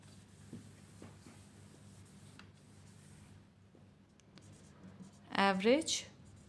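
A formula is written on a board during an accounts lesson. Faint speech and a quiet room hum run throughout, then a short, loud burst of scratchy marker strokes comes near the end.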